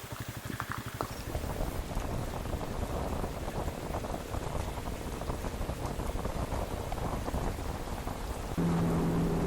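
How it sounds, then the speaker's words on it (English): Heavy rainstorm drumming steadily on the ground and surroundings during a solo motorcycle ride on a CRF300 along the Swedish–Norwegian trail, loud, dense and continuous with no talk. "This storm has been massive."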